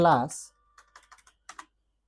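Computer keyboard keys tapped in short irregular bursts while code is typed, light close clicks following a brief spoken word at the start.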